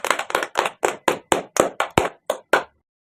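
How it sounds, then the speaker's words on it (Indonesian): Roughly a dozen sharp hand claps ring out in a quick, slightly uneven run, close and fairly loud, honoring guests at an education podcast before stopping into silence. "Berikan tepuk tangan dulu"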